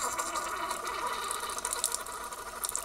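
A coffee machine hums and hisses as coffee pours in a thin, steady stream, with small gurgles and sputters toward the end.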